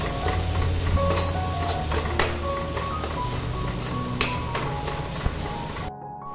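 Chammanthi (coconut chutney) is stirred in a pan over a low flame, with a soft sizzle under steady scraping and a few sharp clinks of the spoon against the metal pan.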